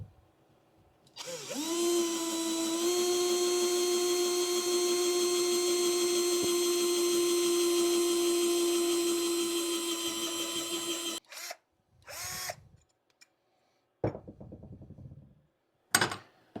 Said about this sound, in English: we're going to go ahead and drill that hole now